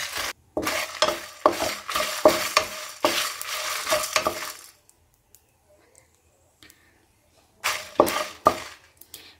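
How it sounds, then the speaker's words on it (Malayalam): Masala with green chilli and coriander roasting in a pan, with a spoon scraping and stirring in quick repeated strokes over a sizzle; it pauses into near silence before the stirring returns. "മസാല ചേർക്കുന്നതിൻ്റെ കൂട്ടത്തിൽ നമുക്ക് പച്ചമുളകും മല്ലിയും കൂടി ആഡ് ചെയ്ത് കൊടുക്കാം. നമുക്ക് നല്ലതുപോലെ ഒന്ന് വറുത്തെടുക്കാം."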